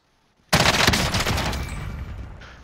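FFAR rifle gunfire in Call of Duty Warzone: after a brief quiet moment, a loud, rapid automatic burst erupts and rattles on steadily for about two seconds, close and dense, with no talking over it.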